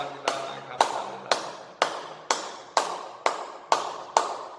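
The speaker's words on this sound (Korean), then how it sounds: "우리 다 같이 주님께 영광의 박수 올려드리겠습니다" Church congregation clapping in unison during a Sunday worship service, nine sharp, evenly spaced collective claps about half a second apart, each ringing out in the hall's reverberation.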